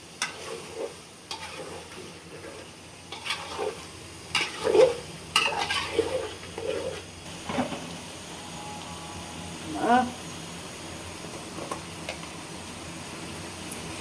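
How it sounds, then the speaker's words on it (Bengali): Potatoes and meat stirred and sautéed in a pot for Old Dhaka-style biryani, with intermittent scraping and stirring strokes over a soft sizzle, moderately quiet and irregular, with no talking over it. "আলু আর মাংস ভালো মতন কষামো।"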